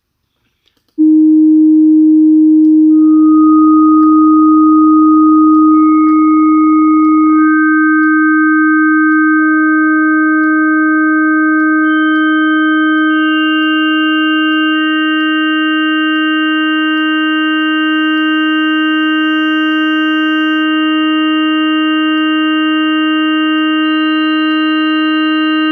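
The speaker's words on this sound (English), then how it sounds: "So that's how a complex waveform can create interesting sounds." A synthesized tone built in the Pianoply synthesizer, starting as a steady low hum that holds throughout while overtones fade in one by one above it and blend into a rich, sustained organ-like chord, loud and alone.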